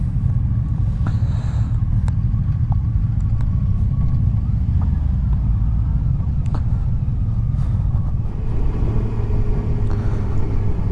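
A motorcycle cruises along a country road heading toward a forest on a warm autumn day, its engine a steady, loud rumble with wind buffeting that stays constant throughout, with no talking over it.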